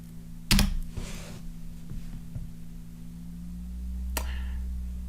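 A few key presses on a computer keyboard as a command is typed into an EVE-NG terminal: a sharp click near the start and another near the end, over a steady low electrical hum.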